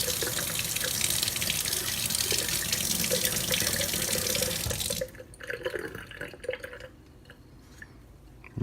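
Tap water runs loudly into a jar of broccoli sprouts as they are rinsed, a full steady gush that cuts off after about five seconds and leaves softer sloshing and dripping.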